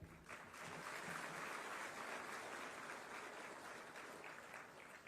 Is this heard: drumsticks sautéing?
no